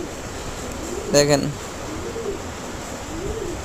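A pet pigeon guarding its newly hatched chick gives low, soft coos in slow repeated phrases nearby, with a brief spoken word cutting in partway through.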